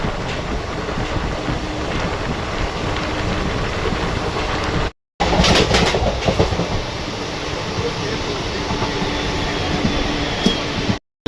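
Hadapsar Express passenger train running between Pune and Hyderabad, heard from inside as a steady loud rumble with rhythmic clickety-clack of wheels over rail joints, briefly cut out midway, no talking.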